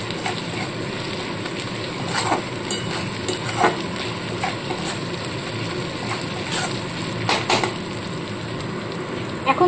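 Garlic paste fries in a pan for garlic malai chicken, giving a steady, even sizzle throughout. Light clicks and scrapes of a spoon stirring break through at intervals.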